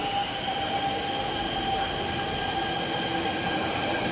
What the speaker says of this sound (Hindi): और ये चल पड़ी मेट्रो